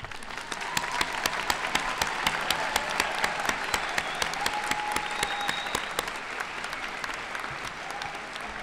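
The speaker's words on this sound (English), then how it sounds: "allow us to honor them with applause" Sustained applause from an audience at a graduation ceremony in a large hall, honoring graduates' spouses and children, a dense, even wash of many hands clapping for several seconds with a faint crowd murmur underneath.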